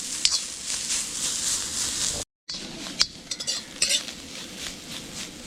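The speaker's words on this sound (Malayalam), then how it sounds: "ഇനി ഇതിലേക്ക് നമുക്കൊരു അരമുറി തേങ്ങ ചിരകിയത് ഒന്ന് വറുത്തെടുക്കാം." Half a grated coconut frying in oil in a pan while being stirred, for a Kerala-style kappa biriyani: a steady close sizzle with scraping stir strokes and light metal clinks, broken by a brief silent gap.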